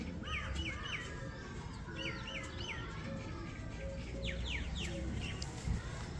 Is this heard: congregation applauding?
no